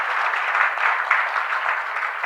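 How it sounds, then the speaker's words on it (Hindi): Sustained applause from an award ceremony audience, a dense steady clatter of many hands clapping throughout with no voices over it. "अरे जोरदार तालियां तो कम से कम बनती हैं भाई।"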